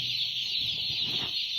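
Many chickens just released into a poultry shed, clucking in a dense, steady flock murmur under a loud constant high hum, close and continuous with no talk.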